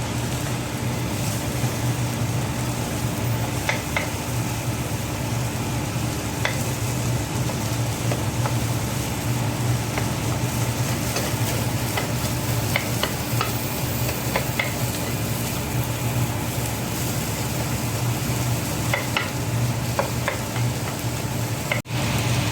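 Egg mixture with onion, green chili and carrot being stirred in a pan, a steady scraping and faint sizzle running continuously over a low constant hum, with no talk.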